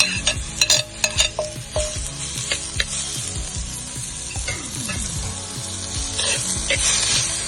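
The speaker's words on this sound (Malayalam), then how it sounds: "ഇനി ചെറുതായിട്ട് അരിഞ്ഞു വെച്ചിരിക്കുന്ന പടവലങ്ങ ഞാൻ ഇതിലോട്ട് ചേർക്കുവാണ്." Curry leaves and chopped ridge gourd, for a fish thoran, hitting a pan with a burst of loud spatula clatter and scraping, then settling into a rising steady sizzle.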